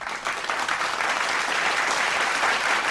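Continuous dense applause, steady and loud throughout with no talking.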